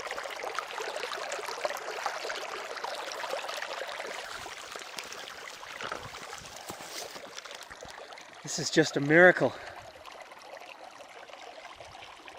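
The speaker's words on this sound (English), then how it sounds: "Just down from my camp, not very far up here, we've got running water." A canyon stream runs steadily nearby, a continuous rushing trickle with a person speaking briefly over it and a short louder clatter near the end.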